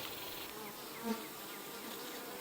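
Honey bees drone in a continuous, fairly quiet buzz around an opened hive as burr comb is scraped off, the hum steady throughout with a slight swell in the middle.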